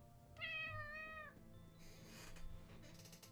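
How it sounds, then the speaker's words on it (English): A cat gives one clear, drawn-out meow up close, followed by quieter rustling and faint shuffling sounds, all in a room during a video game stream. "Hey, you pretty cat"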